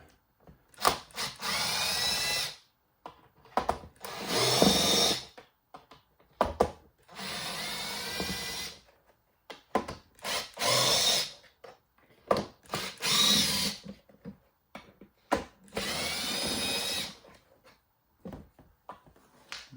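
A power drill whirs in repeated bursts of a few seconds each, with short pauses and small clicks between runs, close by.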